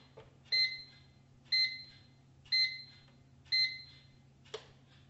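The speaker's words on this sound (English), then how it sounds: "there is a second tone, which is more like a countdown tone." A darkroom exposure timer sounding its countdown tone: four evenly spaced electronic beeps about a second apart, each clear and alone over a faint steady hum, followed by a single softer click.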